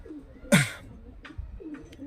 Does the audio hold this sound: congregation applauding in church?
no